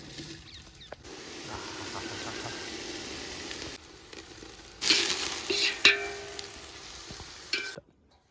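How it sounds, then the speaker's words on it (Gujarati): Green chillies and ginger frying in oil, a soft steady sizzle outdoors that swells louder for a few seconds near the end before cutting off. "આ અત્યારે તમામ વસ્તુ એ તેલમાં ફ્રાય થાય।"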